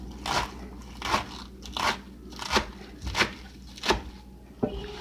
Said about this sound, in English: I just cut with the stem on, and I just cut them as thin as I can.